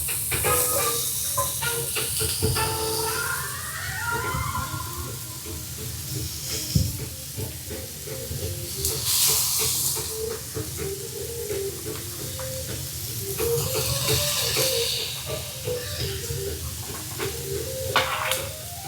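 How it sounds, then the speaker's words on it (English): Onions and peppers sizzle in a skillet with a steady hiss and bursts of steam, and utensils scrape and stir against the pan now and then. No one speaks. "the next thing I'm going to add to my skillet is my peppers and onions"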